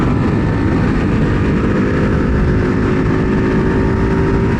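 A 2024 Ducati Hypermotard 698 Mono single-cylinder engine in sport mode roars loudly and continuously, a dense, steady drone with strong low rumble and no pauses.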